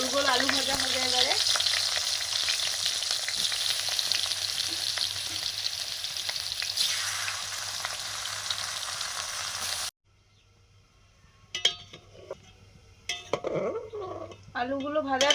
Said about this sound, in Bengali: গোল গোল আলু ভাজা হবে এবারে।